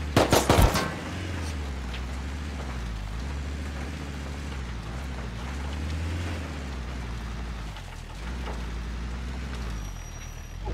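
Gunfire in the survival game Rust cracks out in a short, loud rapid burst at the start, then gives way to a steady low rumbling drone that runs on without talk.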